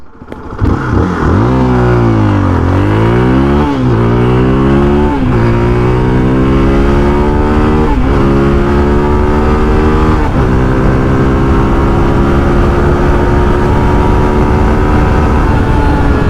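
A Zontes 350R motorcycle engine fires up and is ridden away, revving hard through rising and falling pitch sweeps as it climbs through the gears, then settling into a loud, steady high-revving drone, close and dominant with no talk.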